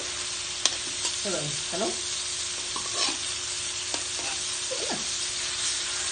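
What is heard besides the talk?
food frying in a little oil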